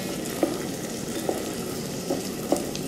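Chopped onions frying in preheated oil in a pot for pilau, a steady close sizzle with a few soft stir clicks spaced through it, no voices.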